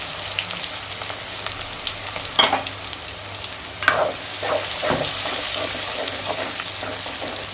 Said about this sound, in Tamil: வெந்தயம் பொரிஞ்ச உடனே வெங்காயம், நல்லெண்ணெய் ஊற்றிருக்கேன் நான்.